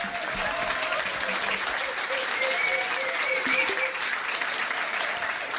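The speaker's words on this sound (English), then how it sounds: "Give them a round of applause" A pub trivia quiz night crowd gives a team a round of applause, a steady, full burst of many hands clapping throughout, with a few voices and cheers mixed in underneath.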